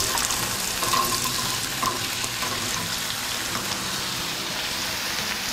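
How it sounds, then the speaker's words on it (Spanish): Potatoes fry in oil in a skillet for a Spanish-style tortilla, making a dense, steady crackling sizzle close by that runs unbroken throughout with no talking. "Vamos a freír un poquito."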